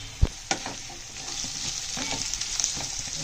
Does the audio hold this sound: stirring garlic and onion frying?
yes